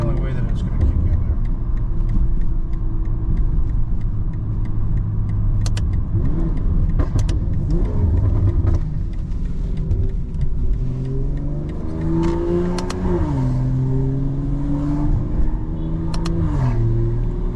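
A BMW M340i xDrive with a custom xHP tune accelerates hard, its engine rising in pitch through several gear changes, loud and close inside the cabin, while a person talks over it.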